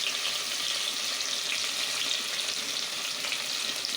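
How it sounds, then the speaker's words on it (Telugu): Onion, green chilli and coriander fry in hot oil and ghee with a steady, close, dense sizzle that holds even and unbroken throughout, with no voices. "దీన్ని చక్కగా ఈ ఆయిల్ అండ్ గీలో ఫ్రై చేసుకుందాం"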